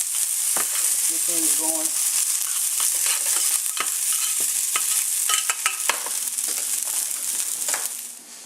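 Food sizzles loudly in a hot pan as tongs stir and turn it, bringing repeated clicks and scrapes over the constant frying hiss, with a brief spoken remark near the start.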